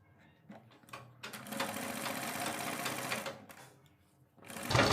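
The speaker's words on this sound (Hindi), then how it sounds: "कपड़ा फोल्ड कर कर आपको इसके ऊपर सिलाई लगा देनी है" Sewing machine stitching folded suit fabric along the neckline, a steady close whirring run of about two seconds with short starts before it and a stop, then a louder thump at the end.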